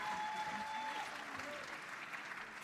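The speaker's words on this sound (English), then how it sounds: "what I'm going to do is give her a round of applause" Audience applause at a Black Caucus meeting during the first day of the DNC in Chicago, a steady dense round of clapping throughout at moderate level.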